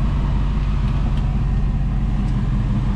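A 1948 Chevrolet Fleetline Custom with a 3-inch chop idles with a steady, close, low engine rumble that holds evenly throughout.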